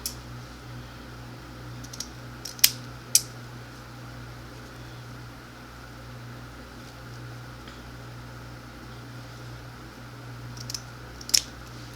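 Scissors clip the ends of deco mesh while a wreath is being made, giving a few sharp, quiet snips spread across the stretch over a steady low hum.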